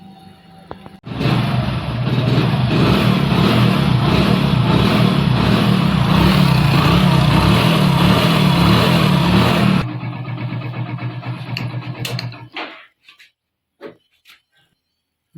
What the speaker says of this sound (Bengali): এটা ঠিক করার পর এরপর আমাদের বাইকের আওয়াজটা শোনাচ্ছি, দেখুন।